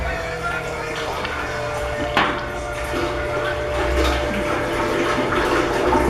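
An oil transfer pump pushes liquid through a garden hose quick connect on a 55 gallon tank, producing a steady, continuous rushing stream that holds up near the microphone throughout, with a short knock partway through.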